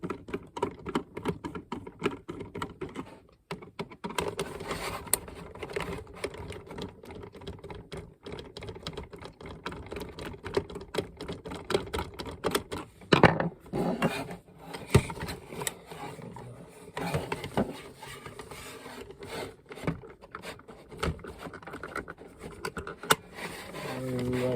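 Old, stuck screws being worked loose from the mechanism of a 1998 Gemmy Hip Swinging Santa, heard as a steady run of close, dry clicks and scrapes with brief gaps and a few sharper knocks.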